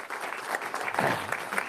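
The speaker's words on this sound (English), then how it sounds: "how about a huge round of applause for Paul, Stella, Chris, Brian" A crowd at an executive committee meeting claps for Paul, Stella, Chris and Brian, a brief steady patter of many hands, moderately distant.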